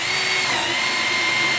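A Bosch power drill boring into wood while building a small garden shed, a steady continuous whine running loud and close for the whole short stretch with no talk.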